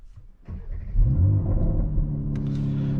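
A 2022 Mercedes-AMG GLC 43 with 4Matic fires up after a starter whir, its engine flaring to a loud rev before settling into a steady, close idle rumble.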